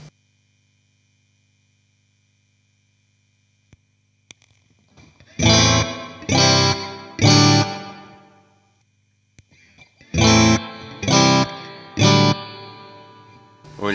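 An electric guitar runs through a Mosky spring reverb and an EHX Holy Grail Nano with a longer delay and reverb setting. Two groups of three loud distorted chords each trail off in long washy reverb.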